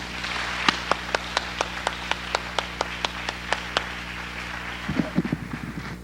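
A small audience applauds an award presenter at an evening event, with a steady run of distinct, fairly close hand claps, followed by a brief stretch of voices and movement near the end.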